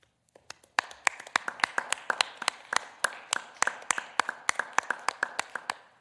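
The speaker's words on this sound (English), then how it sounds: "Some of us were trying to unmute so that you could hear the hand claps." Several people clap their hands during a virtual meeting, about two dozen sharp, evenly paced claps over roughly six seconds, heard through a microphone with a slight room echo and no talking.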